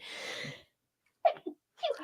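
A single loud sneeze, followed after a pause by two short sharp breaths or sniffs, close to the microphone with no talking.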